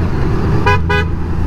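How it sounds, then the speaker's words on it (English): A motorcycle horn gives two short, close honks in quick succession over a steady low engine idle. "I like the horn. It's a good horn."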